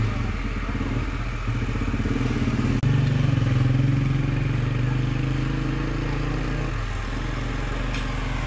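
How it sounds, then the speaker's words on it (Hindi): A tractor engine chugs steadily on a village lane, loud and close with a continuous low rumbling drone and a brief clatter partway through. "एक बार फिर से भाई ट्रैक्टर आया"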